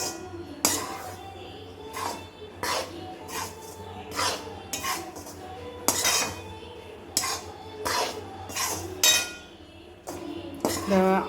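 Jaggery being stirred and roasted in a metal pan for fried gram laddu, a spoon scraping and clinking against the pan in repeated rhythmic strokes, close and fairly loud.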